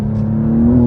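A BMW G87 M2 launching on a rocky surface in Sport Plus with DSC off, a loud, close, rising engine drone with tires spinning, steady and sustained through the short moment.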